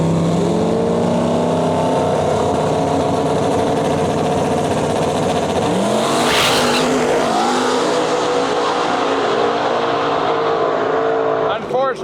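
Drag racing cars launch at the Smoke, Fire and Thunder event in Canada, a loud, sustained engine roar with tires spinning and shifting pitch as a car passes, announcer talk running beneath.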